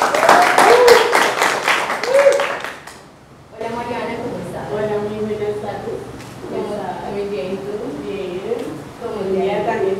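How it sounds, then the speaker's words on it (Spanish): Studio audience claps to welcome a young singer on a Colombian-style casting show, a short burst of dense clapping that stops abruptly, followed by people talking. "recibámosla con un fuerte aplauso"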